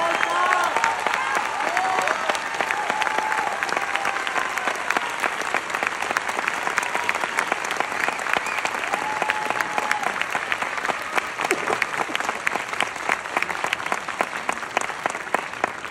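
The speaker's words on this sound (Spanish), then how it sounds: "que pasen al frente y reciban este último aplauso de ustedes, el señor Pedro Lorenzo y Óscar Acosta" An audience applauds steadily at the end of the final theatre performance of a touring play, dense continuous clapping from a large crowd that fills the whole stretch without pause.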